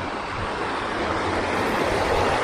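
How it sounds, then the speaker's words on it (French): Mountain waterfall cascade near a footbridge on an alpine trail, a steady broadband rush of falling water, close and continuous, with no voices. "c'est les cascades qu'on voyait dans le bas là"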